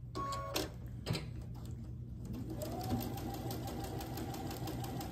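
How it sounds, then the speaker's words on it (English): Domestic sewing machine stitching a quarter-inch seam along a quilt block, a steady close mechanical whir with a low hum, running continuously throughout after a few brief starts. "sewing down that quarter inch line, quarter inch seam down that side"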